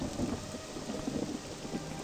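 Steady rain pours with low rolling thunder in the video game Morrowind, a dense, continuous wash of rainfall with rumbling underneath, and no voices.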